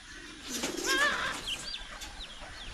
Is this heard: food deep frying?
no